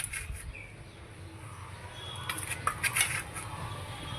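Gram flour being stirred by hand into chopped garlic and green chillies in a bowl for a raw banana kofta mix, with a soft scraping and clinking of utensils that grows denser toward the end, close and moderately quiet.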